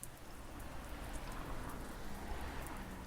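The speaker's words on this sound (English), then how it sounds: "It's rain." Steady rain falling in a video game roleplay, a continuous dense patter of drops on surfaces at moderate level with no pauses or talk.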